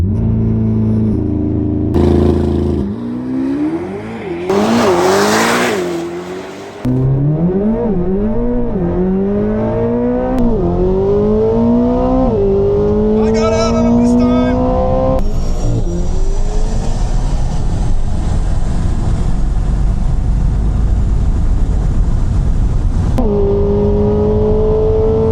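A 1,200 hp tuned Tesla Model S Plaid and a Corvette ZR1X launch in a drag race, the Corvette's engine roaring through rising gear shifts loud and close, followed by sustained high-speed wind and drivetrain noise.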